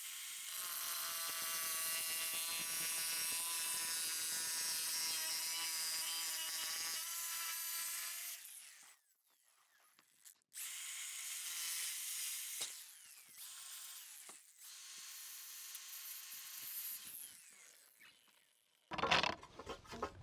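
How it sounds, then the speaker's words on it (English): Montolit CGX blade cutting through shower wall tile around a window, a loud steady grinding whine for about eight seconds, then a short pause and two more cutting passes with brief breaks, ending in a sharp clatter. "So we're just going to basically cut that line straight down, and hopefully we get a nice straight cut."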